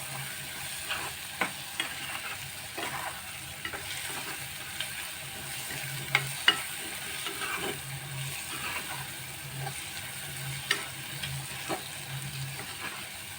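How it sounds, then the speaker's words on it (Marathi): Spinach and potato bhaji sizzles steadily in a pan, with soft frying crackle and occasional sharp clicks and scrapes of a spatula stirring, close and continuous with no talk. "ते पण आता चांगले परतून घेऊ."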